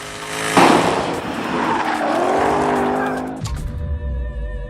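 A Jaguar sports car driving hard on the road, engine roaring loud and close with a sharp rise in revs, tires briefly squealing, then dropping to a lower steady drone as it settles.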